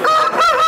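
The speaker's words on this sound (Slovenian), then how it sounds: "To so indijske tekačice." Indian runner ducks at a small-animal breeders' sales show give a loud, close, nasal honking call, two strong cries in quick succession with no voices over them.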